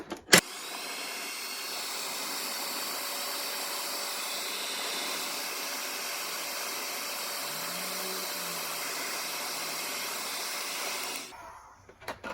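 A heat gun blows steadily on old golf shoe spikes, a loud continuous whooshing roar that runs unbroken for about eleven seconds before cutting off.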